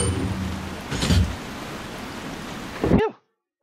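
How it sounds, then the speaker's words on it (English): Rain falls in the video game Resident Evil 4 as a steady hiss of downpour, with a low rumble of thunder swelling near the middle and again just before the sound cuts off abruptly. "That rain was getting annoying."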